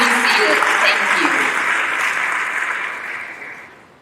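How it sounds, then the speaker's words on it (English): Loud, dense applause fills a high school presentation hall, a sustained roar of many hands clapping with some voices mixed in, gradually tapering off toward the end. "Let's give them a round of applause."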